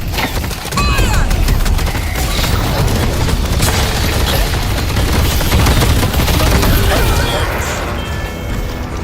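Loud, sustained video game gunfire with dense rapid shots and booming impacts running almost continuously, mixed with mechanical clatter and voices talking over it.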